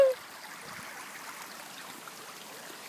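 Water flowing in a stream at a park, a soft steady rushing and trickling that continues evenly without interruption, after a brief high tone at the very start.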